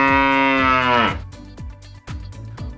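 A single loud, close cow moo drawn out for about a second and dropping in pitch at the end, followed by repeated low thumping beats.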